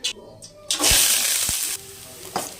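Small onions, garlic, dried red chillies and curry leaves hiss in hot oil in a pan for lemon rice. A sudden loud sizzle bursts up after a clunk, holds for about a second and then settles to a softer crackle, with faint talk around it.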